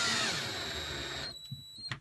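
Cordless drill driving screws into a bed lift storage hinge inside an RV, a steady whirring run for over a second that stops abruptly, followed by faint clicks and handling noises.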